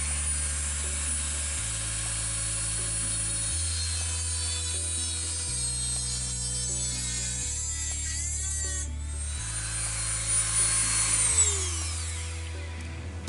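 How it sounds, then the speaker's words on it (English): A small electric Dremel rotary tool cuts through metal for a fish plate patch repair, its thin high whine rising and sweeping in pitch over a steady backdrop of low, stepping music, with no talking. "something I very rarely ever pull out is my little electric Dremel tool"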